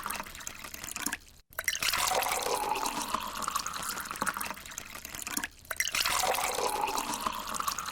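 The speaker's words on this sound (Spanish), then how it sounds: "está siendo llenado con un líquido, agua" Water pours steadily into a container, a close trickle and splash whose pitch rises as it fills. Two brief pauses break the flow before it resumes.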